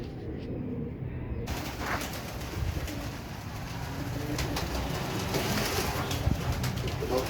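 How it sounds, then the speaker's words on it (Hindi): Pigeons coo steadily at feeding time as grain is put out for them, a dense, continuous chorus of soft throaty calls close by outdoors, with no talking over it. "अभी दाना डाल रहा हूँ कबूतरों को।"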